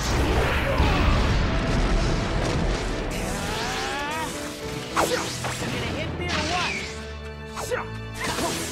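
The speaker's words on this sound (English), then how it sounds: "Fire Style, Phoenix Fire Jutsu." Phoenix Fire Jutsu attack in the Naruto Shippuden Ultimate Ninja Storm 4 video game: loud blasts, crashes and whooshing bursts of fire, with a shouted voice and other vocal effects mixed among the impacts.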